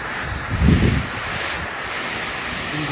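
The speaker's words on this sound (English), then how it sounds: "Windy day today." Wind blows steadily across the microphone outdoors beside a vinyl fence in Surfside Beach, with a soft hiss and one low buffeting gust early on.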